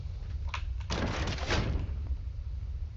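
A door opens with a short scrape and a muffled thunk in the Roblox horror game Pressure, a single soft close movement over low background rumble.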